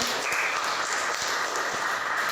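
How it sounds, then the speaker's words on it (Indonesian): Students in an Indonesian junior high school classroom clapping for a classmate: a short, even wash of many hands clapping together, steady and close throughout. "Oke, tepuk tangan dulu untuk"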